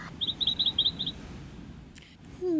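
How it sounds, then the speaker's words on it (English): Small birds chirp in a quick series of bright, evenly spaced tweets for about a second, followed by quiet background and a brief rising whistle-like tone at the end, with no talking. "Ooh, I like the birds."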